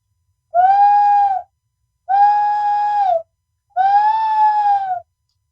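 Three long, steady, hollow hoots from a bird-call whistle imitating an owl, loud and evenly spaced with silent gaps between them and no talk.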